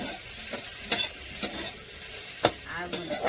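Okra (bhindi) frying on a stove, with a steady low sizzle and several sharp scrapes and clicks as a utensil stirs it.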